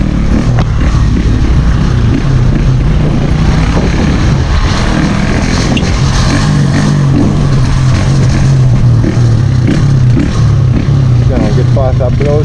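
A Jamco 150cc motorcycle on a ride, its engine droning loud and steady throughout with rising and falling revs, heavy wind rush and a rider talking over it.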